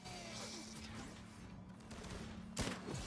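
An automatic turret in the game Firefall fires rapid bursts of gunfire, fairly quiet in the mix, with a sharper, louder volley near the end.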